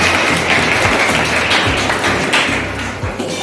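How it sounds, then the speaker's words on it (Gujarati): Loud, dense applause from an assembled crowd welcoming guests at a charitable institution for blind residents, with continuous clapping and no talk. "આપણે સૌ તેમનું તાળીઓથી સ્વાગત કરીશું"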